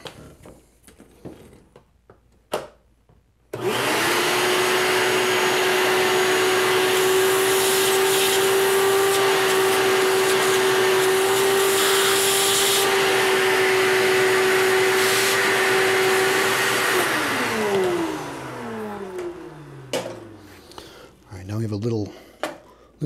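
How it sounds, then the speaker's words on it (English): Nearby, a vacuum cleaner switches on and sucks drilling debris from a toy vending machine lock, roaring in one loud steady drone before winding down with a falling pitch, a short lead-in of quiet handling noise before it starts. "we're going to hit that with the vacuum here."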